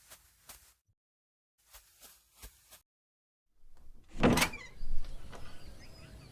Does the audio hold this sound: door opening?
yes